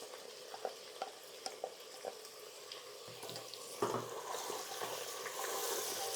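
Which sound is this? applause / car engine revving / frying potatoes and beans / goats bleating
frying potatoes and beans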